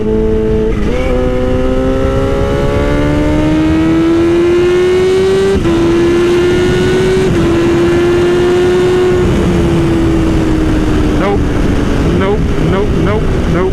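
Kawasaki Ninja H2 motorcycle engine accelerating hard on a ride, a loud continuous whine rising steadily through the gears with a brief dip at a shift, wind rush throughout.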